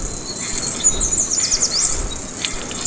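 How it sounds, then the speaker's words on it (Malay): Birdsong in a forest during a BMX ride, with high chirps and tweets rising over a steady hiss of insects and ambient outdoor noise, small birds calling intermittently in the background with no talking. "Bunyi burung-burung."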